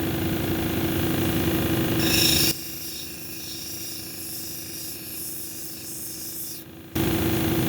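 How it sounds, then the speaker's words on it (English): A lapidary grinding wheel at 220 grit shapes a red jasper cabochon with a steady wet hiss and whir, dropping quieter midway while the stone is worked, then rising again near the end, with no talking. "we're going to take it over to the 220 grit now to get all the marks out"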